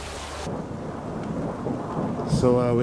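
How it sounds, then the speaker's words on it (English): Rain falls at a cliff-side mountain resort in Al Jabal Al Akhdar, Oman, with a low rumble of thunder rolling under a steady downpour, and a brief tonal sound near the end. "We have rain in the Middle East."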